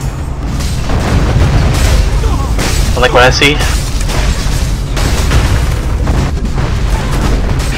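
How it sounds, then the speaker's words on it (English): Cannon fire during a castle defense battle in the video game ArcheAge, repeated heavy booms and bursts layered over a constant din of combat, with someone talking over them. "Whoever's cannoning, keep cannoning it up."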